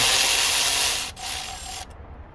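Ratcheting and rubbing of a wrench turning out a 12 mm bolt from an alternator bracket on a Hyundai Sonata, a close, steady scraping run that pauses briefly and then stops abruptly.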